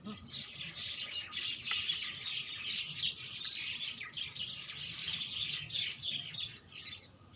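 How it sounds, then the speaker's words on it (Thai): Many small birds chirp and tweet busily nearby, a continuous chatter of high calls over a soft outdoor background. "เป็นเสียงนก"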